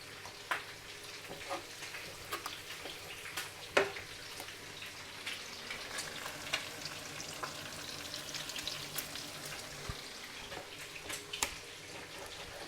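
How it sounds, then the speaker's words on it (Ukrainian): Pork meat and fatty belly from a freshly slaughtered hog fry in a pan, a steady close sizzle and crackle with occasional pops and stirring scrapes, no talking. "Ну так хай жариться, потім цибулі додавлю."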